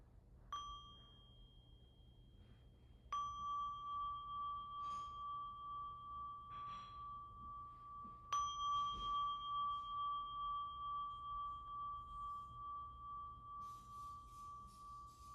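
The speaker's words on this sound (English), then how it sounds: "let me invite the sound of the bell to bring it in for a more formal close as well." A meditation bell is struck three times, each clear ring sustaining and overlapping into a long fading hum, alone in a quiet room during a global healing meditation session.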